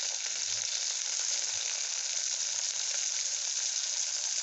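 Ginger and garlic paste frying in hot oil with browned onions for a country chicken curry, a steady, loud, dense sizzle that runs without a break and with no voices over it.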